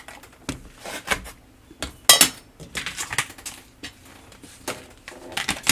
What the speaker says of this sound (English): I'm going to scoop out all the potatoes.